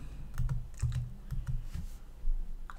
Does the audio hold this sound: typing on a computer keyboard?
yes